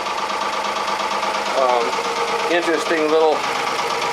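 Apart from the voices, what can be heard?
Volvo diesel engine running on Fisher 30 boat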